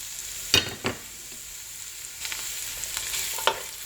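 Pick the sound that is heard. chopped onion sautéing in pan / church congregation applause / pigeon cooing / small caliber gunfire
chopped onion sautéing in pan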